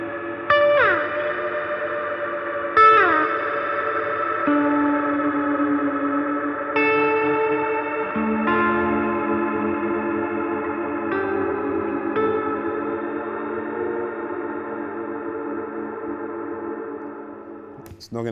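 An EarthQuaker Devices guitar effects pedal stretches sustained guitar tones into a long reverberant, echoing tail, chords blooming and overlapping then slowly decaying, loud and close with no voice over it.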